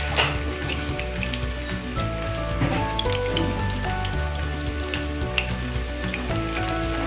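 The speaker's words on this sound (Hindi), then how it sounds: "फ्राई करने लगे हैं।" Bread kabab shallow frying in a little oil in a pan, a steady bright sizzle with crackling pops running continuously, close and fairly loud.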